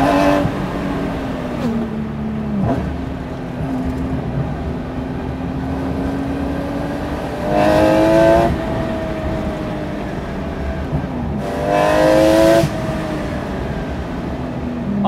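A Porsche 993 Speedster by Guntherwerks with a substantially revised engine drones steadily, then rises in sharp, loud revving bursts twice, with a brief whoosh of a vehicle passing nearby.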